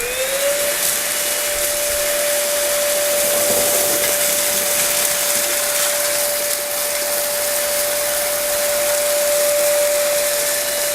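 A BlitzWolf cordless handheld vacuum runs steadily on its high setting over tile, a loud constant whoosh with a thin whine that rises briefly at the start and then holds for the whole stretch.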